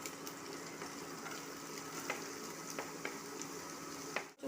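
Onions sizzle steadily in a hot pan for macaroni masala, a constant close frying hiss with a few faint stirring clicks and no talking.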